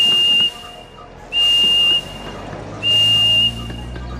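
A cartoon steam locomotive whistle from the Thomas & Friends video game Trouble on the Tracks, three loud, steady, high-pitched blasts in a regular rhythm, each about half a second long, over a low background rumble.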